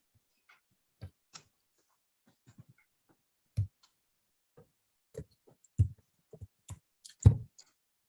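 Irregular light clicks of keys pressed on a computer keyboard, sparse taps arriving singly and in small bursts, fairly close with quiet gaps between, no voices.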